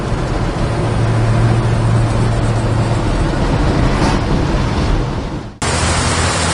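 A 1965 Pontiac GTO with the Tri-power engine, a red post coupe, drives steadily with a loud, continuous broadband engine and road roar. The sound drops sharply near the end, then resumes at a slightly different tone.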